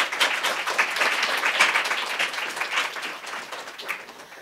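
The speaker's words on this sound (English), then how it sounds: "Please give our panelists a big round of applause for being here today." An audience at a careers-in-accounting panel gives the panelists a brief round of applause, a moderate, steady patter of many hands clapping for a few seconds.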